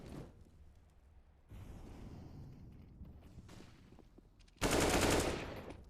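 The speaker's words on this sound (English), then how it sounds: "They got an AK in Streety's hands." AK rifle gunfire in Counter-Strike: Global Offensive, heard as a short, fairly loud rattling burst near the end, after quieter game ambience and faint rustling noise.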